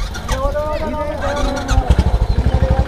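Motorcycle engine starting on a snowy mountain road over black ice, a rising whir settling into a close, throbbing idle pulse while someone talks over it.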